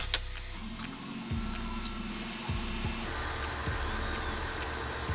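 A small lathe skims material off a part for a pneumatic press, giving a quiet, close, steady motor whine with faint ticks that repeat at regular intervals.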